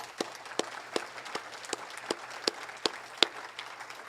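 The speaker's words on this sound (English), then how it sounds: "let's give everybody a round of applause" Sparse, evenly spaced claps ring out at an event venue, each sharp and distinct over a low steady hum, more like a few hands clapping than a full crowd.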